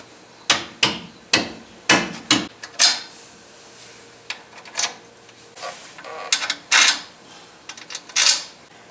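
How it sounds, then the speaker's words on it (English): A series of sharp knocking taps, several in quick succession then more scattered, a rubber mallet tapping a ball joint into a Dodge Dakota suspension up close. "use a rubber mallet to get it in"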